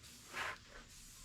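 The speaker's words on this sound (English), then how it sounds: "the spray is a little erratic and it's leaking all over the place" Spray can paint with an erratic, leaking nozzle coating Ford Bronco wheel beauty rings in a garage, one short soft hiss burst and a fainter second puff, quiet and close.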